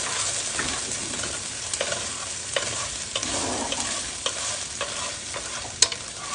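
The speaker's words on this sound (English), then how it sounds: "I'm going to get my sausage cooking here on the back. Burner." Sausage frying in a pan on a back stovetop burner, a steady close sizzle and crackle with occasional stirring scrapes and utensil clicks, no talking.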